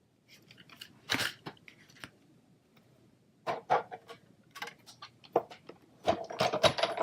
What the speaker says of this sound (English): I'm going to come in with my framelits and bring in the big shot.